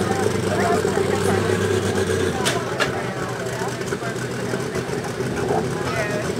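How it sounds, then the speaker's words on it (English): A methanol-burning lightweight-class pulling tractor roars at a tractor pulling event, a broad rumbling engine din in the distance beneath an announcer's voice over the loudspeaker. "These methanol burning motors, alcohol motors, a lot of RPMs."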